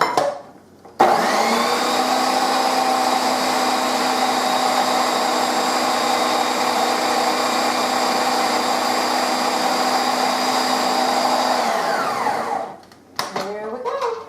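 A food processor blends sweet potato casserole in one long, loud, steady whir of about eleven seconds, its motor holding an even pitch before it spins down and stops.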